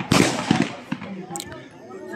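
Several sharp bangs go off in quick succession during an NCC live firing exercise outdoors, with one louder report followed by smaller cracks, and a person talks over the shots.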